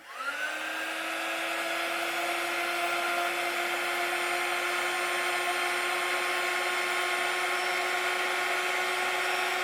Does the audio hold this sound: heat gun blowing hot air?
yes